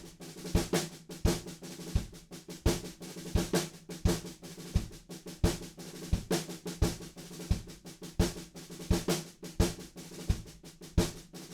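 Close, loud snare rolls drive a building drum groove from a song, with a kick drum thumping steadily on every beat, four on the floor, beneath accented strokes.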